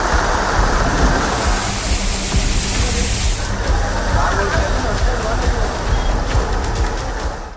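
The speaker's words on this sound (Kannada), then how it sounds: "ಶಿವಮೊಗ್ಗದಲ್ಲಿ ಧಾರಾಕಾರ ಮಳೆಯಿಂದ ನೀರು ಮನೆಗಳಿಗೆ ನುಗ್ಗಿದೆ" Heavy downpour in Shivamogga, a dense, loud, continuous roar of rain with water rushing, steady for the whole stretch with a slight change in texture midway.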